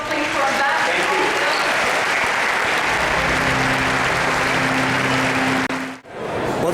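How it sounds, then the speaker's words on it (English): An audience at the AIPAC 2019 conference at the Washington Convention Center applauds an ambassador, the clapping a broad and steady wash from a large hall, with a brief low hum partway through and a sudden cutoff near the end. "A big round of applause, please, for Ambassador"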